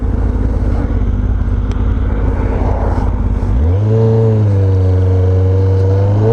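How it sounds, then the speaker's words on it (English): Road traffic heard from a riding motorcycle: a loud, steady engine drone with wind rush, then the engine note shifts and climbs into a smooth, rising hum as the bike accelerates. "Yeah, there's a lot of traffic right now."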